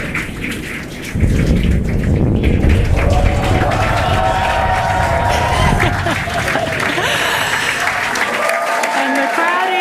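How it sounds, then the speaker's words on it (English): A crowd cheers and applauds as a Falcon 9 booster touches down on Landing Zone 1. After a quieter opening second, a dense roar of clapping swells and holds steady, with a voice over it. "the crowd here is excited to see Falcon 9 touch down on landing zone 1"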